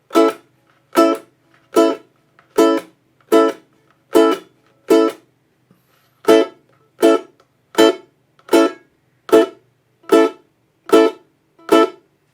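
An acoustic guitar strums the swung eight-note pattern from a song with sharp staccato muting, two bars of short clipped chords separated by a brief pause, close and clean with no voices.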